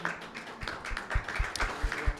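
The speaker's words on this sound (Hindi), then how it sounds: "यीशु मसीह के लिए तालियां बजाएं कलीसिया" A church congregation clapping for Jesus Christ, a thin, uneven patter of hand claps at moderate distance, soft and scattered rather than a full roaring applause.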